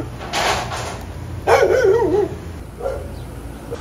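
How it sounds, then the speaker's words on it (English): Rain falls as a few dogs bark in the distance over steady background noise, with one drawn-out wavering howl in the middle. "it's a lot of dogs barking here."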